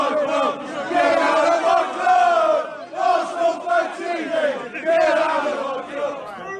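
Football supporters in a large crowd chant and shout in a confrontation around a fan channel. The roar is loud and sustained, with rising group yells and overlapping voices in waves.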